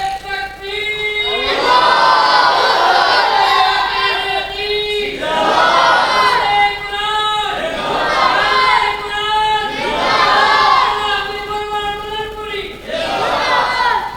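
Large gathering at a religious speech answers a slogan with rhythmic group shouts and chants, loud repeated surges of many voices rising and falling in waves.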